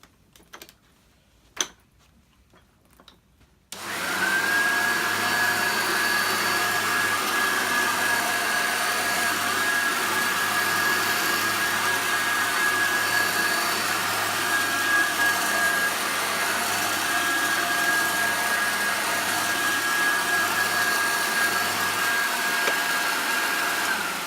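Hoover Turbopower Junior U1100 upright vacuum cleaner on a floor, starting after a few handling clicks, then running loudly and steadily close by with a sustained whine and motor drone.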